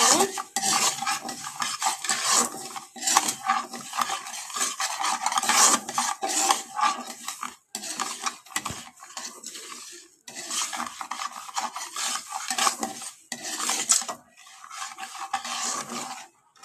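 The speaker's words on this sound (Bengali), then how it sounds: "ততক্ষণ ঘিটাকে ভালো করে ভেজে নিচ্ছি" A utensil scrapes and clatters in a pan as moong dal is stirred and fried in ghee, with rapid continuous rasping strokes broken by a few short pauses, close and fairly loud, no voices.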